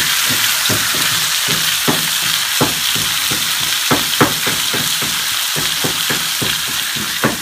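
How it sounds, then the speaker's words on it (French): Steady loud sizzling of meat frying in a pan, with irregular scraping clacks from stirring throughout. "Je tourne ma viande."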